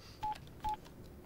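A telephone is dialed to call another phone, giving two short, clear keypad tones spaced about half a second apart over faint room noise.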